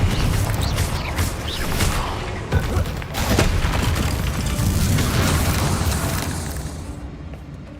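Explosive spell blasts from the game Hogwarts Legacy, a dense run of booming bursts and crackling impacts close together that fade out near the end.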